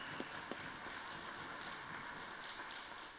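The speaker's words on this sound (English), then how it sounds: "Let's give Mama Brass a round of applause." Applause from lawmakers and guests in a state senate chamber during a legislative session day, a steady, fairly quiet wash of clapping lasting the whole few seconds, with a couple of sharper claps early on.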